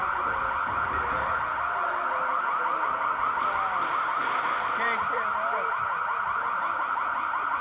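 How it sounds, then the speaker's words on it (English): A loud electronic door alarm blares at a varsity soccer field, a continuous wailing, warbling tone that repeats without pause, with faint voices in the background. "Everyone's favorite alarm door has gone off."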